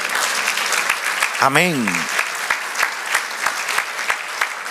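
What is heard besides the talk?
church congregation applause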